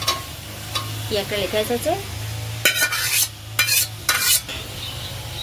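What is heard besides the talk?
fried potatoes stirred into sizzling spice masala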